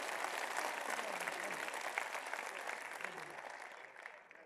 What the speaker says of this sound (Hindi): इन सारे कवियों को दोनों हाथ उठाकर मेरे सम्मान में तालियां बजा के बताओ